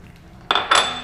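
Metal clinks from a pan and utensils on a stove while milk, cream and butter are warmed over low heat, two sharp clatters in close succession after a quiet start.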